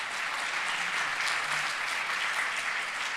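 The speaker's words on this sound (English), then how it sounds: "Please applause." At a retail summit, an audience gives a quiet, even burst of applause from a seated crowd, a soft, continuous patter of hands at a distance that stays level throughout.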